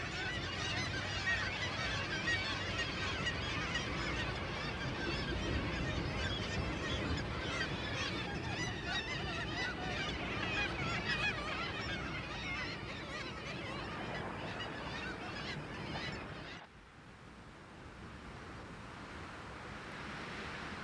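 Black-legged kittiwakes calling at Arctic nesting cliffs above the open ocean, a dense continuous chorus of many overlapping cries that drops away abruptly near the end, leaving a quieter background.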